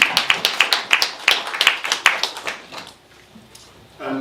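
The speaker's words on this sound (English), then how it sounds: "can we give a quick round of applause to you three?" An audience applauds in a short round of brisk, steady clapping that fades out after about three seconds, leaving quiet room sound and a voice starting up at the end.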